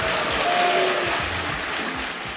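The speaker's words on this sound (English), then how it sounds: "She was met with some applause and a few boos." Archival audience at the Oscars ceremony breaking into steady, dense applause that fills the hall, with a few scattered boos mixed into the clapping throughout.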